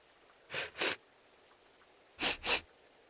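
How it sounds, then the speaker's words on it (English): Characters in Tales of Berseria sniff twice in quick succession, then after a pause sniff twice more, each pair short, close and crisp over a faint background. "What are you two sniffing at?"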